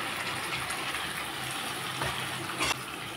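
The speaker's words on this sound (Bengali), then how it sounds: "দিয়ে দিচ্ছি মিক্সি জার ধোয়া মশলার জল।" Spice-rinse water from a mixer jar poured into a cooking pan, a steady soft gushing splash heard close and alone.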